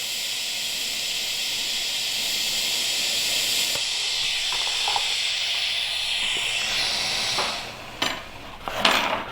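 TIG welding torch running a lengthy bead over metal with powder coat, a loud steady close hiss with crackles and brief bursts near the end.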